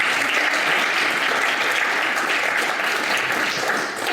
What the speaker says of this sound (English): Let's give a warm welcome and round of applause for Kate